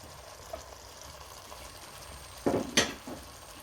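Fish and spinach being stirred in a saucepan, a quiet simmering hiss broken by a couple of brief, sharper clatters of a utensil against the pan near the end.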